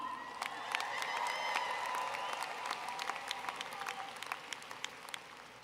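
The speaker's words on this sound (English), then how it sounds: "They receive an applause too." An audience at an Eastern Washington University graduation ceremony in 2018 gives sustained applause, a dense wash of many hands clapping with a few faint whistles, fairly even throughout.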